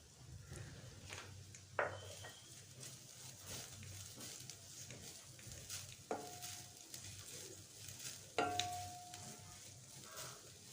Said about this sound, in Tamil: நெய்யிலேயே 1 கப் அளவுக்கு தேங்காய் பூ எடுத்து வச்சுருக்கிறேன். அதை போட்டு நல்லா பொன்னிறமாக வறுத்துக்கலாம்.